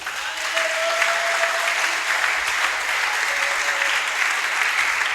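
A church congregation applauding in a steady, loud, sustained wash of clapping from many hands, with no pauses.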